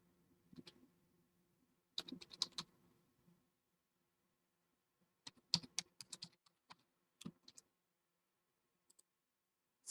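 A password tapped out on a computer keyboard, heard as sparse, quiet clusters of clicking keystrokes with gaps of silence between them, fairly close and alone.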